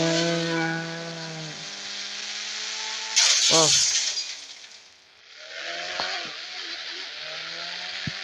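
A car's engine in a GTA game revs with rising and falling harmonic tones, broken by a sudden crash of breaking glass and impact noise, then the engine hum resumes steadily.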